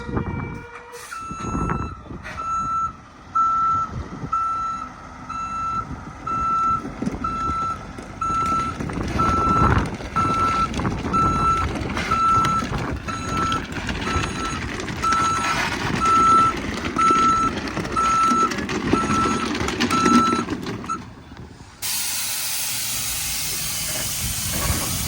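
A heavy stone-hauling truck rumbles and hisses nearby while a reversing alarm beeps in a steady, regular rhythm for most of the time, ending with a burst of air.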